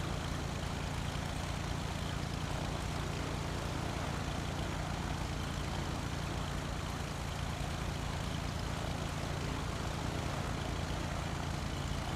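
A Piper Cub propeller plane engine in a flight simulator game drones steadily and evenly throughout, a constant low rumbling hum with no talk.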